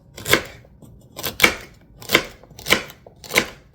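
Food being chopped with a HexClad knife on a cutting board: five sharp, evenly spaced cuts at a steady rhythm, close and distinct, with no talking over them.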